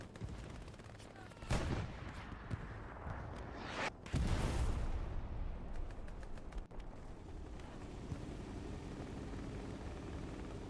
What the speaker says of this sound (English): Artillery smoke landing just northwest of the point.